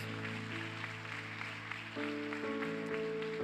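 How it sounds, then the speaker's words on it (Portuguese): A church congregation claps together, a steady wash of hand claps under sustained keyboard chords that shift pitch, with no voices standing out. "Dê mais um aplauso ao Senhor em nome de Jesus."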